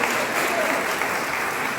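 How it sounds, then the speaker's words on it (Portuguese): A congregation at a women's church retreat session claps steadily together, a full, continuous burst of applause filling the room at a consistent level throughout. "Aplauda o Senhor."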